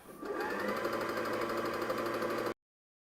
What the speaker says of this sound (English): go ahead and press on the presser foot to finish filling up your bobbin